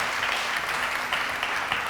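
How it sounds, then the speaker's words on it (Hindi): Studio audience clapping for a child's recitation on a Ramazan television show, a brief, steady wash of many hands at moderate volume. "इनके लिए तालियां होनी चाहिए बहुत सारी"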